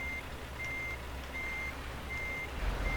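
A heavy truck hauling an excavator load reverses, its backup alarm sounding four evenly spaced high beeps over a low idling engine rumble, with a brief air hiss at the end.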